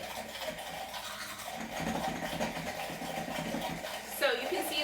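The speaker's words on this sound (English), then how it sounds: "Now I'm going to use my handheld blender" A handheld blender whirs steadily at close range blending mayonnaise until frothy, its motor hum rising a little in loudness partway through, with a brief shift in pitch near the end.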